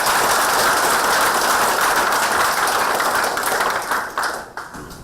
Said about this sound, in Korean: 큰 박수